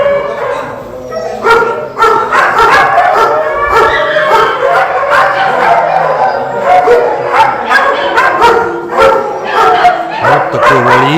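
Many dogs in the enclosures of a new dog shelter in Yakutsk bark, yip and whimper nonstop, a loud overlapping chorus of close and distant voices with sharp repeated barks throughout.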